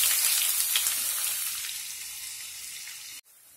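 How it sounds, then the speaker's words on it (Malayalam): Three sliced onions frying in oil for chicken chukka, a bright hissing sizzle that gradually fades and then cuts off abruptly near the end. "ഈ സവാള നമുക്ക് നന്നായിട്ട് ഫ്രൈ ചെയ്ത് എടുക്കണം."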